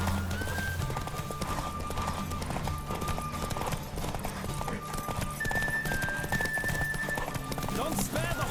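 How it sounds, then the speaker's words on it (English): Roach, a horse in The Witcher 3: Wild Hunt, galloping with a quick steady clip-clop of hooves under game music and ambience, with a voice talking over it. "Don't spare the horse."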